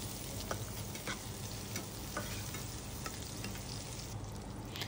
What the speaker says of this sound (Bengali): কড়াইতে দিয়ে দিচ্ছি তেল, দিয়ে দিচ্ছি পেঁয়াজ কুচি